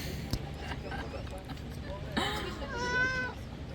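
A cat meows at a hotel breakfast table at La Casa del Mundo in Guatemala. Several short meows rise over a busy background of clinking and nearby chatter.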